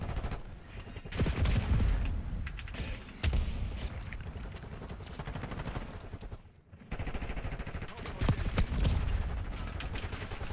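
Gunfire in a Call of Duty match, dense rattling bursts of automatic fire and shots that continue almost without a break, loud and close, with a short lull partway through.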